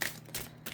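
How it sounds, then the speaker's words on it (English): An oracle card deck being shuffled by hand, giving a few short papery bursts of card noise close up in a quiet room. "we will do a quick little shuffle here and we will pull a card for all of you"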